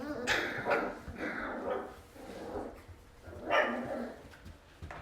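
Puppies barking and yipping in a few short high-pitched bursts, fairly close, with a brief quieter pause between the groups of barks.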